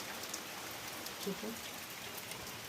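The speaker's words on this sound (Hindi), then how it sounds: "हमारे वहाँ बारिश है, बिल्कुल फुल बारिश" Monsoon rain falls steadily over a hill village in Pithoragarh, a soft, even hiss of drops that stays faint and distant throughout.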